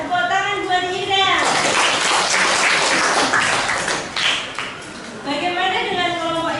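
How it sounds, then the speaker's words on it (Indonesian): Classroom applause for a student in an Indonesian lesson, a burst of clapping in the middle that rises, then fades as children's and a teacher's voices return at both ends. "tepuk tangan buat Ida"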